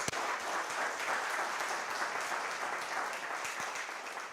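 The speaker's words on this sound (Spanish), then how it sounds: "Dele un aplauso al Señor grande por eso." A church congregation applauds during a sermon, sustained steady clapping from many hands filling the room at moderate level, no voices.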